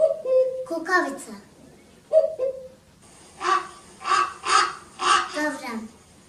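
Children's voices imitate the harsh caw of a raven, giving several short, loud rasping calls in quick succession after a few brief bits of talk.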